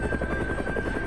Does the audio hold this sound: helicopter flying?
yes